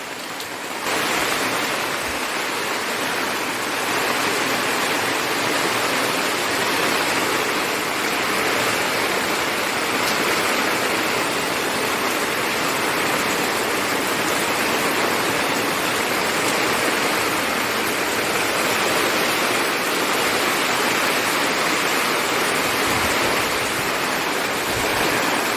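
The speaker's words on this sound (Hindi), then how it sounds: "बारिश आ गई है फिर से" Rain falling steadily at a home, a dense, even roar of hiss that stays constant and loud throughout with no pauses.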